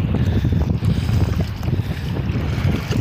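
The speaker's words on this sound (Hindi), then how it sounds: "देखिए लहरें मार रही हैं" Sea waves and strong wind on the Qatar coast make a loud, continuous low roar, heavily buffeted by wind gusting across the microphone, with no voices.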